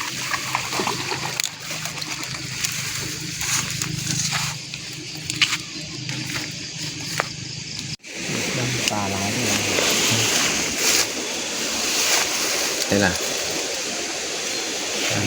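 Floodwater rushes steadily along a rain-swollen stream, a broad continuous wash with splashing, while people talk over it and the roar grows fuller midway through.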